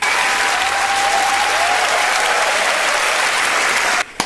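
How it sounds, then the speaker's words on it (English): A studio audience at a Taskmaster taping bursts into loud, dense applause that holds steady for about four seconds before cutting off abruptly. "round of applause for all 5 of these lunatics"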